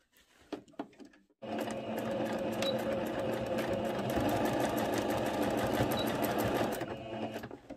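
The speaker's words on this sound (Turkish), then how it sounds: "Şöyle yan kenarlardan, iki kenardan, iki yandan şu şekilde dikiyorum." A sewing machine stitches the side seams of a skirt with a loud, even whir that holds for about six seconds after a few faint handling taps, then slows to a stop.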